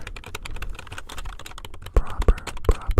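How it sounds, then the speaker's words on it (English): Close, crisp keyboard tapping in irregular bursts during an ASMR session, with a louder run of heavier keystrokes near the end and no voice over it. "keyboard tapping is that if I press the keyboard even accidentally"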